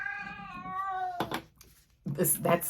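A 16-year-old pet cat giving a long, clear, drawn-out meow up close, followed by someone speaking briefly.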